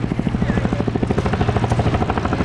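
A Boeing CH-47F Chinook twin-rotor helicopter at an airshow at Duxford airfield, with a loud, steady rhythmic rotor chop close by throughout.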